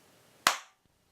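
A single sharp hand clap, close and loud, set off to trigger an Arduino Playbot clap switch, snapping out with a quick decay into near silence.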